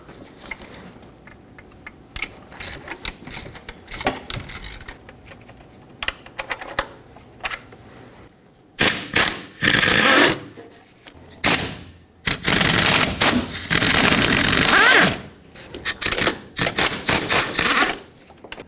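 A ratchet or impact tool works loose 10mm bolts on a 2.4L Jeep Wrangler engine, with scattered clicks and clinks followed by several loud, dense bursts of rapid ratcheting up close.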